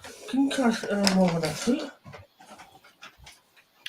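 A young puppy, recently given its first injections, pants and whimpers softly near the microphone, while a person speaks over the first half and quick breathy pants continue alone afterward.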